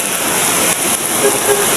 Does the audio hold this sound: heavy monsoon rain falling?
yes